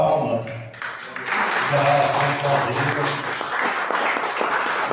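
A church congregation claps steadily during a Portuguese-language service, a dense wash of applause building after the first second and continuing beneath a voice speaking.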